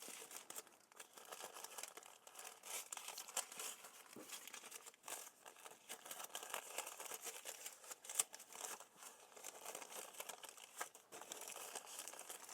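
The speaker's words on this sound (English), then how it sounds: "Sorry about the crinkling." Plastic packaging crinkles and rustles faintly but continuously as clothes are unwrapped, with irregular crackling bursts over roughly twelve seconds.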